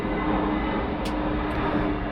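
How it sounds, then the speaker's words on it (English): Airplane passing overhead outdoors beside a pizza oven, a steady, loud broadband roar filling the whole moment with no talking. "noisy plane going over"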